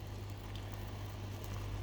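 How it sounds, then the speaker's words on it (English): Sri Lankan potato curry coming up to the boil in a pot, a steady close low bubbling and soft patter that stays even throughout with no talking. "Now we're seeing it come up to the boil."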